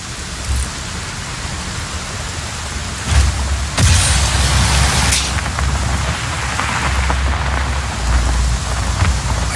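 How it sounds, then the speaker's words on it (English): A storm in Just Cause 4 brings steady heavy rain hissing on surfaces, broken by a few sharp thunder cracks and low rumbles, with no talking. "Storm's rolling in."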